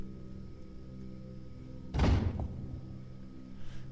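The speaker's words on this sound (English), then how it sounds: "Some kind of door inside a secret passage is opening." A door opening inside a secret passage in the video game Thief: one heavy thunk with a brief grinding scrape, then a faint trailing clatter, over a quiet ambient hum.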